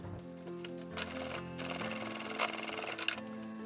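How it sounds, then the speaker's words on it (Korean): A sewing machine stitching fabric for a dog scarf and its strap, a steady mechanical whir with rapid ticking needle strokes that speeds up and then stops, close and fairly quiet. "스카프 부분이랑 끈 부분을 모두 재봉틀로 박았는데요"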